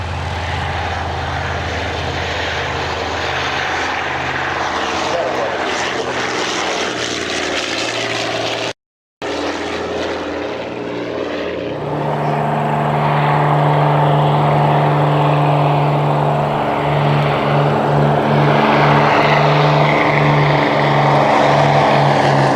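De Havilland Devon twin-engine propeller aircraft flying, a steady loud engine drone with strong low harmonics that swells toward the end after a brief dropout, no voices.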